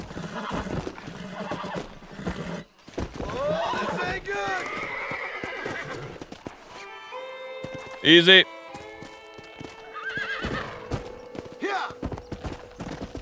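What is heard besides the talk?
horse neighing and hooves being tamed in a video game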